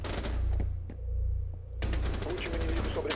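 Rapid bursts of Rainbow Six Siege gunfire crackle in quick succession, loud and close, with a short pause before another volley.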